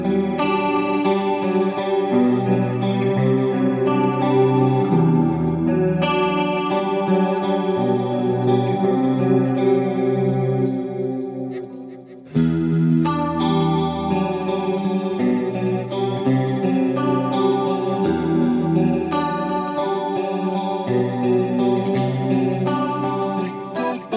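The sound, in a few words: bright, sparkly clean electric guitar tone with chorus effect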